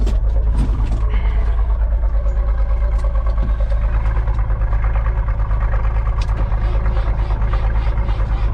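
A car engine idles steadily after a cold start, a loud, continuous low rumble with a lumpy, loping rhythm close by, running throughout with no clear speech over it.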